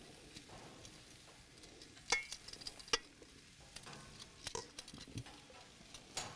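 Onion slices and portobello mushrooms on a grill, giving a quiet, steady sizzle with scattered pops and the scrape of a utensil, heard fairly close.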